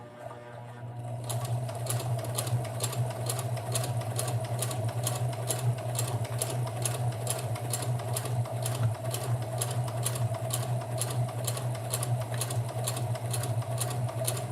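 Sewing machine stitching fabric at a steady pace, a fast, even mechanical clatter that starts after a brief pause and runs continuously close up, with a constant motor hum underneath.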